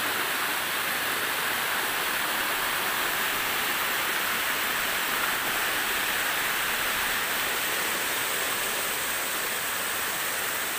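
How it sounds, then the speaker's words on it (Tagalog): A continuous hiss of a waterfall rushes steadily and loudly throughout, with no voices or other sounds. "So dito marami pang waterfalls."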